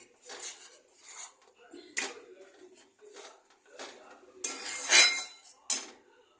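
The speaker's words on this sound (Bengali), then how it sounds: "নিয়ে এই মশলাটা ভালো করে কষাবো।" Spice paste with green chili paste being sautéed in a pan, heard as bursts of scraping and clinking spatula strokes against metal separated by brief quiet gaps, fairly close and clear.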